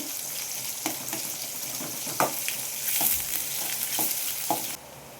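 Long-sliced onion frying in a pan sizzles steadily with a broad hiss, broken by a handful of sharp scraping stirs spread through the stretch, with no voices.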